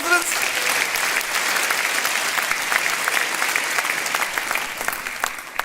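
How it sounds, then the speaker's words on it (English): Audience applause for local residents at a Reform UK local election rally in Norfolk, steady dense clapping from a crowd filling the whole stretch and easing slightly at the end, with a few scattered voices mixed in. "Round of applause for our residents."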